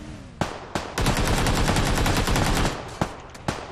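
Rapid automatic gunfire in the video game PUBG: a few single shots, then a loud, sustained burst of fire lasting well over a second, followed by more isolated cracks, with no talk over it.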